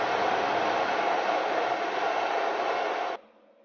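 An electric heater on its heat setting, run from a 3000 W pure sine wave inverter, gives a steady, loud fan-and-air rush that holds evenly for about three seconds and then cuts off abruptly.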